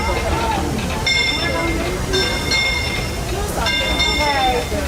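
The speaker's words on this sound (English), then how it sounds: "Now arriving from a trip around Walt Disney's Magic Kingdom" Disneyland Railroad train at the park's station, with steady rolling rail rumble and faint squeal over crowd babble and nearby voices throughout.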